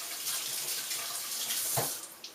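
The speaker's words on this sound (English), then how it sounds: "Rinse the celery off." Celery is rinsed under a running kitchen tap, a soft, steady hiss of water that lasts throughout, with a brief splash near the end.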